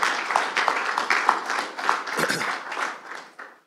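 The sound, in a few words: applause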